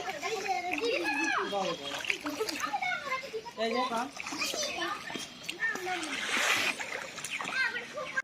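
Children splashing in a resort swimming pool while a father teaches two girls to swim; steady watery splashes and churning run throughout, mixed with children's voices and an adult's speech over the top.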